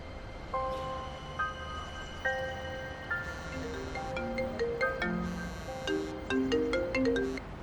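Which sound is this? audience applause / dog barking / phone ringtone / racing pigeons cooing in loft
phone ringtone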